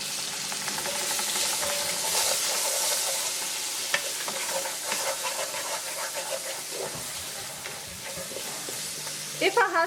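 Frozen vegetables frying in a pan with garlic and ginger paste, a steady loud sizzle with scraping stirring strokes throughout, close up.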